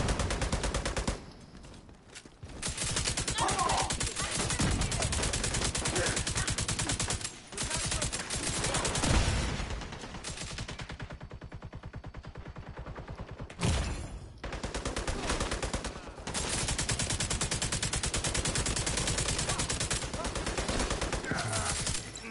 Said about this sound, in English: Who the heck is shooting mortars at people out here?